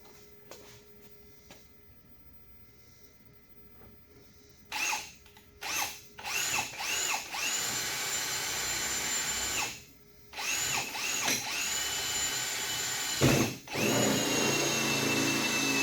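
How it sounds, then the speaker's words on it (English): A power drill bores a hole through the lid of an IBC tote firewood store, running in several loud bursts with brief stops between them and no talk. "That's where I drill my hole."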